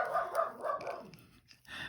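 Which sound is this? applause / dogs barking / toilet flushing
dogs barking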